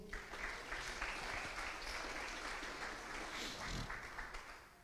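A church congregation applauds during a sermon, sustained scattered clapping from many hands, fairly faint and distant, steady for several seconds with a faint voice briefly underneath.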